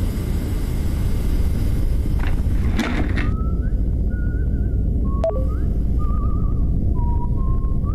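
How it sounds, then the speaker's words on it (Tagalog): Eerie whistling in the horror video game Dead Signal comes as a series of short, wavering mid-pitched whistled phrases. They repeat several times over a steady low ambient hum, with a brief rattling noise before them. "May sumisipol."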